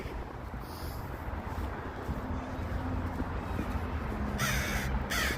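A crow caws several times during a noon street walk in Chicago's Lincoln Park in December, the calls fairly distant and heard over wind and city rumble, with no talk.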